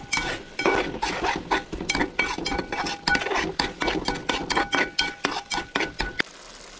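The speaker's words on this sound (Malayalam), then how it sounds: "ഇനി നമുക്കൊന്ന് ഇളക്കി നോക്കാം അത് ഇങ്ങനെ ഇളക്കാം തേങ്ങായുമായിട്ട് നന്നായിട്ടൊന്ന് യോജിപ്പിച്ചെടുക്കുക" Metal spoon scraping and clinking against a pot while stirring aviyal, a Kerala mixed-vegetable dish, with grated coconut; repeated close, rhythmic clanks and scrapes, steady and loud, with no talking.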